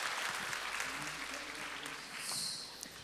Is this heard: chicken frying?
no